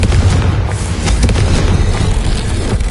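A Confringo fire spell from the Hogwarts Legacy video game bursts into a loud, sustained explosive rumble that roars steadily for several seconds with no pause or talk.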